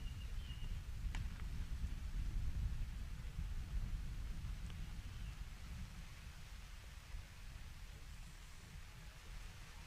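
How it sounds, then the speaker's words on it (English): Steady rain pours down over an outdoor baseball game, a dense even hiss that runs unbroken throughout, with a couple of faint knocks near the start and no talk. "Rain coming down steady now."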